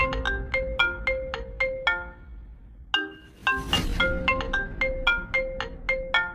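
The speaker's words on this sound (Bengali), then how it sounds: "কে আবার এই অসময় লাউড়া ফোন করলো?" A mobile phone ringtone plays a bright, repeating electronic melody, pausing briefly before starting again, with a short rustling burst just after it resumes.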